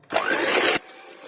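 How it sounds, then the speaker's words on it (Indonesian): Electric hand mixer whipping steamed brownie batter at high speed, a loud whirring burst lasting under a second that cuts off abruptly, alone without talk. "Selanjutnya kita mixer hingga mengembang dan kental berjejak ya."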